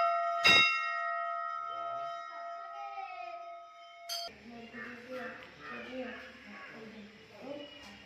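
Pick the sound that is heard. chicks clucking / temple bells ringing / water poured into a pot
temple bells ringing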